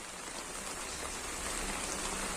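Steady rain falls on farmland by the Satpura forest, with an even, dense patter that fills the background, constant and unbroken.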